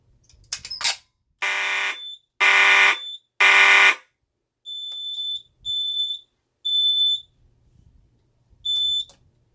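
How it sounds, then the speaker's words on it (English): A loud Edwards FireShield Plus fire alarm horn blares in rhythmic pulses, separated by gaps where a high-pitched beeping tone continues. "the horn is like super loud"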